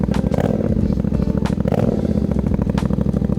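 A carbureted motorcycle engine idling as it warms up, a close, steady, rapid low-pitched chug with light mechanical clatter throughout.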